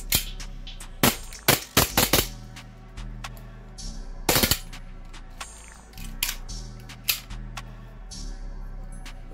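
Elite Force Glock 18C airsoft pistol with an extended magazine fired semi-auto indoors, giving a series of sharp, close snapping shots at an irregular pace over a steady low hum.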